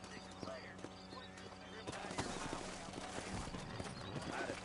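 Horses in the Red Dead Redemption video game clip-clop steadily nearby, with a whinny breaking through, all fairly quiet with some voices in the background.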